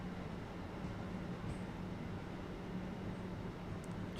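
Train rumbling along the East Coastway line toward Eastbourne in Train Sim World 2020, a quiet, steady low roll with faint rattling, continuous and distant-sounding with no talk.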